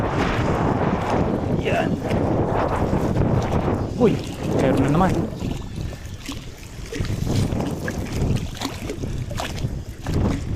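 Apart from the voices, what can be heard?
strong wind at sea on a fishing boat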